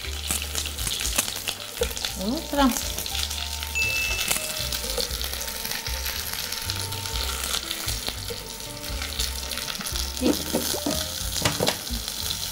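Bread frying in melted fat in a pan gives a steady, close sizzle and crackle with occasional stirring scrapes; a few spoken words pass briefly over it.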